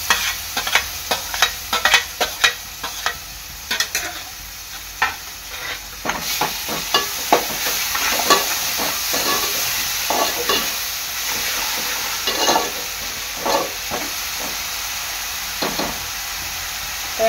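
Onion and tomato frying in a pan for a Koli-style prawn rice, a continuous sizzle and hiss broken by frequent clinks and scrapes of a spoon stirring, close and fairly loud with no one talking.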